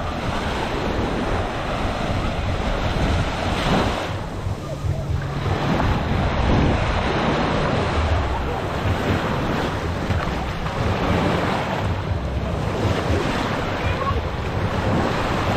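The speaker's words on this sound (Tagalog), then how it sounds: "Medyo malakas yung alon niya." Strong ocean waves at a beach in San Felipe, Zambales, crash and surge continuously with heavy wind buffeting the microphone, a rough, roaring wash throughout.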